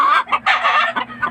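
Hybrid fighting chickens kept in a cage cluck loudly and close by in a quick, uneven series of short bursts.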